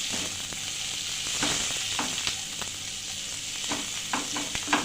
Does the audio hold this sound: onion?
yes